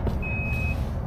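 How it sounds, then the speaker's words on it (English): A high, steady electronic alarm tone sounds inside an Airstream travel trailer, a single sustained beep over a constant low rumble of background noise. "And it even comes with an alarm. Okay, we acknowledged it and it stopped screaming at us."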